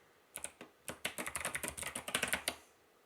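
Computer keyboard typed on for about two seconds while entering a terminal command, a close run of quick, crisp key clicks that starts sparse and speeds up before stopping.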